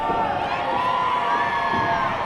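A crowd at a PPW High Voltage professional wrestling match reacts loudly with sustained shouting, cheering and jeering, a dense continuous roar.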